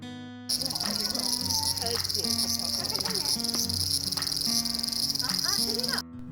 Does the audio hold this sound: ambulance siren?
no